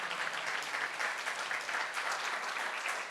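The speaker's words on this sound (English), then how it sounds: "please join me in giving all of them a round of applause" An audience at an awards reception for a mental health law center applauds in a steady, fairly faint and even wash of clapping that carries on without a break.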